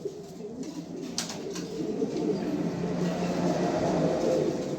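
Low, murmuring coos from a male AirPCT club pigeon swell steadily at close range, with a couple of sharp clicks near the start.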